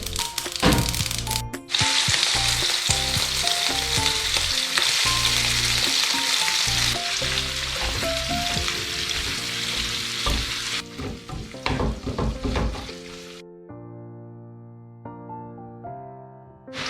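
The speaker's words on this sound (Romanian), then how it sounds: "Uleiul s-a înfierbântat destul de bine, așa că voi pune chimenul și îl voi prăji puțin." Cumin fries in hot olive oil in a pan, a steady close sizzle with crackles and stirring, and the frying fades out toward the end.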